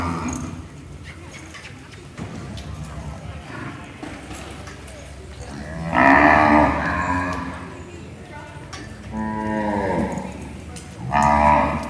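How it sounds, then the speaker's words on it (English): Gray calves at a cattle show arena moo loudly in several drawn-out calls, the two strongest near the middle and at the end, over a constant arena hum and light background talk. "we have a lot of cattle in the arena"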